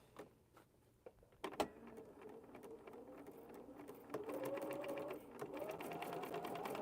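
A sewing machine stitching a quilt square, running slowly and steadily with a few clicks and knocks at the start and a louder continuous whir in the second half, fairly close by.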